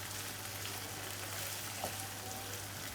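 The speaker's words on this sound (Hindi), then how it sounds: "और फ्लेम फुल करके मैं इसको भून लेती हूँ।" Brain masala being roasted over a full flame gives off a steady, even frying sizzle that holds at a moderate level throughout, with no voices over it.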